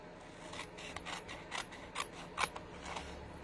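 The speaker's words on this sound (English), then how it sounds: "I'm going to cut this" Scissors cut through an adhesive sheet with a series of close, crisp snips and rasping slices, about eight in an uneven rhythm.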